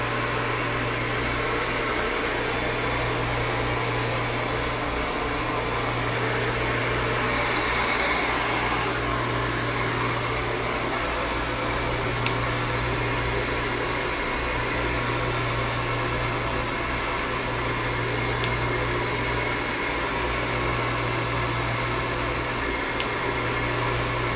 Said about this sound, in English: I'm gonna let the blow dryer dry it with me folding it